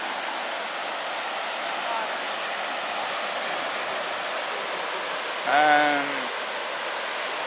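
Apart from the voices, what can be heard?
rushing floodwater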